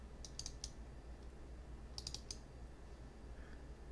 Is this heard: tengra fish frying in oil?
no